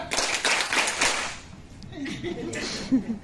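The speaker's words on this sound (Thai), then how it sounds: "ปรบมือห้าครั้ง" An audience at a Thai seminar claps hands a set number of times. A short run of sharp claps is followed by quieter voices and a bit of laughter.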